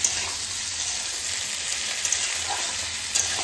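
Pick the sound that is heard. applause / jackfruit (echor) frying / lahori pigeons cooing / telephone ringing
jackfruit (echor) frying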